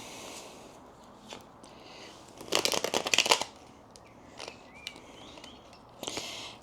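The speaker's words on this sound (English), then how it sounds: "I'm just going to give this a good shuffle wuffle" A deck of tarot cards being shuffled up close in a few bursts of crisp riffling and flicking, with faint springtime birdsong chirping in the background.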